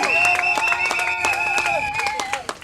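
Guests clap for the groom at a civil wedding ceremony, with scattered hand claps and a sustained tone of voices or music over the top and some crowd noise mixed in.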